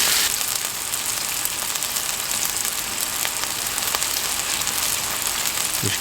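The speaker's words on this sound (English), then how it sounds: "You can see they're sizzling away nicely," Loud, continuous sizzling and spitting of chicken on a hot Blackstone griddle, steady crackle throughout with no voices.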